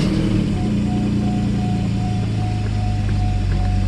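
Mercedes S600 W140 V12 idling from inside the car after a throttle repair, a loud steady low rumble with a faint repeating whine, no talking.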